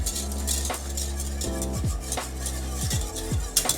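A whisk stirs ice cream custard in a pot, with repeated metallic scrapes and clinks against the pan at an irregular rhythm, close and moderately loud, with no voices.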